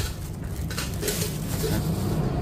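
A metal oil-free frying pot with a strainer basket is handled close up, with soft clinks and scrapes of metal over a steady background hum.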